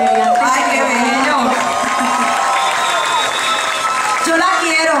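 A studio audience claps and cheers for an actress and comedian while voices and a tonal sustained sound run loudly over the crowd noise throughout.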